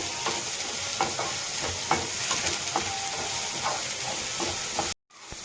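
Grated carrot, beans and capsicum frying in a pan for vegetable fried rice, a continuous sizzle broken by repeated scraping stirs of a spatula, ending in an abrupt cut to silence.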